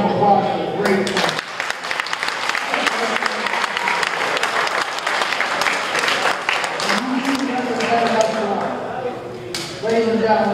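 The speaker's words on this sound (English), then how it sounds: "Let's have a big round of applause for the great tournament." Loud, sustained crowd applause fills an arena after a 2012 St. Paul Region 2 Golden Gloves amateur boxing qualification bout, with dense clapping running the whole stretch while an announcer's voice carries over it.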